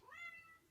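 A house cat gives one short, faint meow that rises and then falls.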